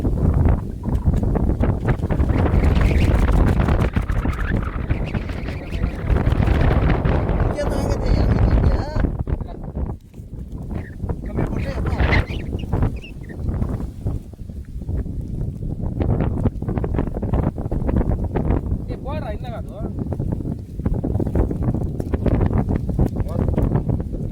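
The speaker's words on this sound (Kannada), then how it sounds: "ರಪ್ನ ಬಂತಲ್ಲ ಗಾಳಿ." Strong wind buffets the microphone in heavy, roaring gusts that rise and fall throughout, with brief lulls and voices partly buried beneath.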